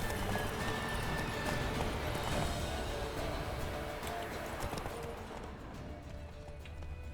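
A horse galloping in The Witcher 3, rapid rhythmic hoofbeats pounding steadily at close range over a dense, busy game soundscape, fading slightly toward the end.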